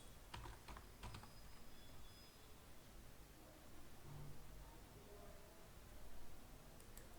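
Soft, quiet keystrokes on a computer keyboard while filling in an accident insurance scheme form at an e-Mitra service point, a few taps early on and then faint hiss with little further activity.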